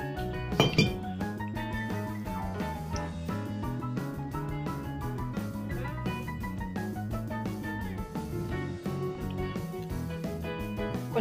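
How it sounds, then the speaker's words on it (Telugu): A spoon clinks against a bowl while ragi flour is stirred with water, quick light taps repeating steadily and fairly quietly, with no talking over it. "ఉండలు లేకుండా కలుపుకోవాలి."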